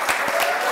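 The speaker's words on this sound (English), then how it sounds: "make a big round of applause for Randy Ramdin" A brief burst of audience applause on the Let's Talk show greets performer Randy Ramdin, a loud close patter of clapping lasting under a second.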